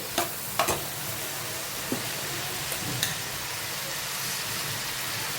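Spices frying in a pan for sev usal over full flame, a steady close sizzle broken by a few sharp scraping taps of the stirring spoon early on.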